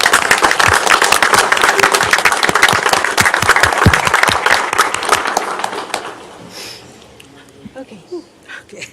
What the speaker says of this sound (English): Can we all give Officer Castillo another round of applause, please?